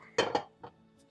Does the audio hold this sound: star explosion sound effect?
no